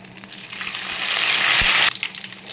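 Curry leaves go into hot oil with tempering seeds for a broad bean (goduchikkudu) fry, making a loud, close sizzle that swells over two seconds and then cuts off abruptly.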